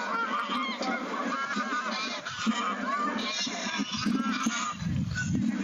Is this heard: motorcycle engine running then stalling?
no